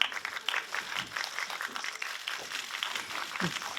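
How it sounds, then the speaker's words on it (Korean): A crowd claps steadily at a Korean film press screening, a moderately loud burst of applause that carries on throughout, with scattered individual claps. "박수로 맞이 부탁드립니다."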